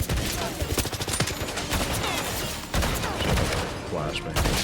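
Rapid bursts of gunfire ring out in the video game 007 First Light, dense overlapping shots rattling in quick succession, with a voice talking over part of the shooting.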